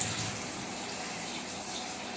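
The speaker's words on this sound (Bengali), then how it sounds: "তো দেখো চালটা ধুয়ে" Rice gets washed under running water, a steady gushing rush like a tap filling a pot that holds level and fairly close throughout.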